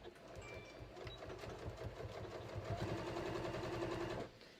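A sewing machine stitches a pocket bag about an eighth of an inch from the seam, a fast, even mechanical whir that builds steadily at close range and then stops abruptly.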